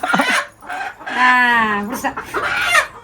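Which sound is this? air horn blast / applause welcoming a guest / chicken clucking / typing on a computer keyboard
chicken clucking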